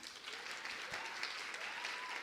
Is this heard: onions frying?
no